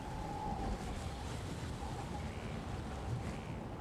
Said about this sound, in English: The wind is loud. They want you to know it's windy up there.